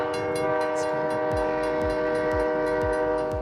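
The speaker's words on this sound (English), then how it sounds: "Here comes the giant train just coming at me through the snow." A large train rolling past through snow, its horn blaring steadily with stacked tones while a low rumble and repeated clanking bursts from the wheels carry underneath, loud and close.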